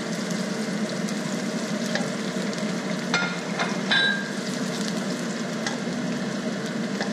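Sliced onion frying in a pan for an eggs and scallops stir fry, a steady close sizzle that holds constant throughout, with a couple of brief clinks of a utensil partway through.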